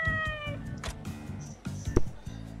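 A cat meows in the video game Like a Dragon: Ishin!, a few short cries over low in-game music and ambience, fairly close and clear.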